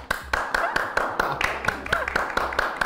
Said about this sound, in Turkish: Alkışla sen